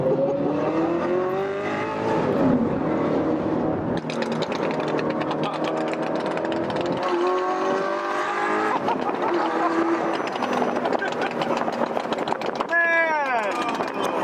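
Sports cars including a McLaren, a Tesla and an AMG drive to a California car cruise, with engines revving and accelerating steadily throughout, a tire squeal near the end, and voices or other sounds layered over the traffic.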